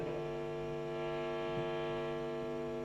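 A loud, steady mains hum buzzes from an electric guitar's single-coil pickup turned up, with faint bumps as a pickguard is brought near it.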